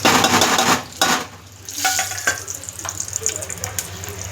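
Tempering for a peanut chutney, with garlic, curry leaves, mustard seeds, urad dal and a dried red chili dropped into hot oil, gives a close, crackling sizzle. Clinks and scrapes of a pan punctuate it.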